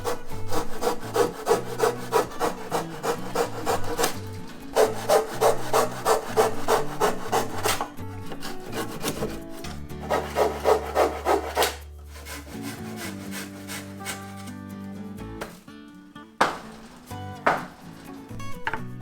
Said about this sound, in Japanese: すのこ板を打ち終えたので、ここで3つに切ります。